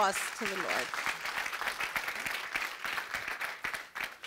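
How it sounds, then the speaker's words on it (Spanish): Congregation applause during a church service, broad clapping from the crowd that carries through with a voice talking over it. "Dele ese fuerte aplauso al Señor."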